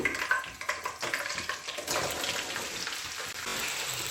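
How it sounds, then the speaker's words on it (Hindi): Potato slices crackle and sizzle as they drop into hot oil, a dense close frying hiss with bursts of popping that settle into a steady sizzle. "और अब मैं इसमें डालूंगी आलू"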